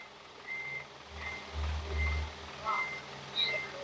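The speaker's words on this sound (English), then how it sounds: "I heard a reversing beep. And I thought, oh, that sounds like it could be a concrete truck." Reversing beeps from a concrete truck backing up outside, a steady series of evenly spaced electronic tones at moderate distance, heard over a low engine rumble and outdoor background noise.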